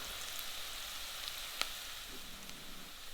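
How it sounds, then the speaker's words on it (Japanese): Onions, garlic and potatoes sizzle steadily in a pot as they are stirred, a soft continuous frying hiss with a single sharp scrape or clink partway through and no voices. "玉ねぎ、ニンニク、じゃがいもが焦げないように混ぜながら火を入れていきます"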